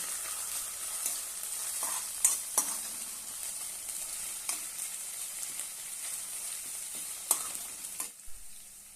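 Ingredients sautéing in hot oil for a spicy fenugreek (methi) thecha: a steady close sizzle with occasional sharp clicks and scrapes of stirring, and no voices.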